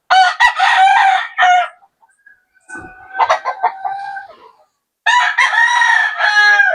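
Roosters at a gamefowl farm crow loudly and close, three separate calls with pauses between, mixed with a few clucks.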